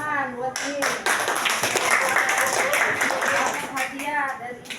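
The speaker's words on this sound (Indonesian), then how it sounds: "Tepuk tangan buat ini." A school classroom claps hands together in a brisk, dense burst lasting a few seconds, with a teacher's voice speaking before and after the clapping.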